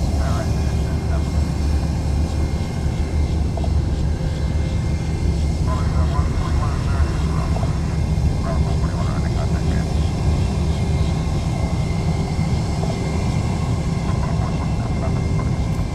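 A JetBlue airliner rumbles steadily at Fort Lauderdale–Hollywood International Airport, a loud continuous jet roar filling the scene while a person talks over it throughout.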